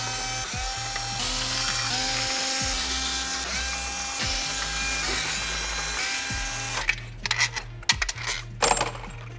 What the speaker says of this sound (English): Now I can start to remove the bolts for the intake manifold.